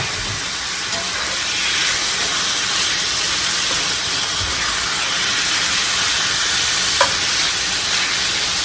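Meat searing in a hot pan over high heat, a loud, steady, continuous sizzle and hiss filling the whole stretch, with a couple of faint clicks.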